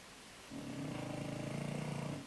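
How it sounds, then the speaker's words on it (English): A dog's low, rumbling snore starts after a short quiet moment, with steady rhythmic breaths running close and fairly loud until the end. "Can you hear the snoring dog in the background?"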